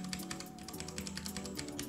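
Key presses on a white Cherry MX Board 3.0S RGB keyboard with brown switches: a quick, steady run of close, crisp clicks and taps, heard alone with no voices.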